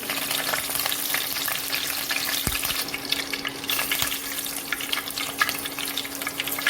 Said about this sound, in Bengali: তেলটা গরম হওয়াতে এরপর কারি পাতাগুলো দিয়ে দিলাম